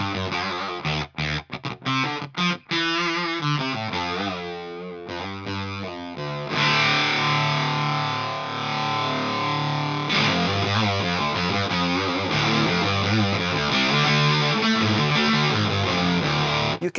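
Electric guitar played through a Flattley Poison Ivy fuzz pedal at low gain, a raspy, broken-speaker buzz. A few choppy strums come first, then sustained chords ring out loud and steady.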